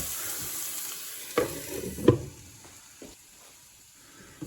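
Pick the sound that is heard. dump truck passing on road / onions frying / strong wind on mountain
onions frying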